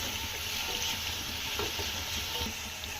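Onions with salt sautéing in a pan for chicken curry, a close, steady sizzle and hiss with soft scraping of stirring throughout.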